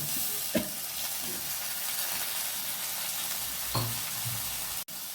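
Tomato going into spices frying in a pan for a Bengali-style gule fish curry: steady close sizzling with a couple of soft stirring scrapes and a brief clunk near the end, no talking.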